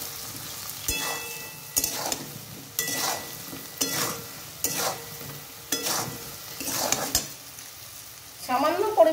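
Onion and capsicum fry in a pan with turmeric, chili powder, salt, cumin and coriander powders, a soft sizzle broken by rhythmic spatula stirs scraping roughly once a second.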